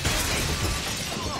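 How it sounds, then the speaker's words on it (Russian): A Molotov cocktail smashes through a pub window, giving a dense, sustained crash of shattering glass with loud, harsh noise filling the whole moment. "Отморозки Томми Хэтчера бросили в окно паба коктейль Молотова."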